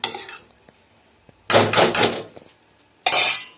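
A metal lid clatters onto a cooking pot of dill leaves and green gram, with three separate loud rattling bursts of metal on metal, close up, separated by near silence.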